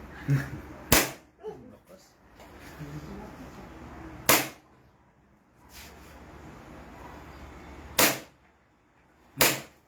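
Pistol shots ring out at a firing range: four sharp, loud reports spaced a few seconds apart, with people talking quietly in between.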